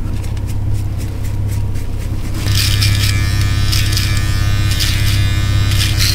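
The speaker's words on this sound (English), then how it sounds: "Next, we're gonna be using a foil shaver." An electric foil shaver buzzes steadily and loudly up close as it shaves hair, running the whole time and growing harsher and fuller partway through, with no talk.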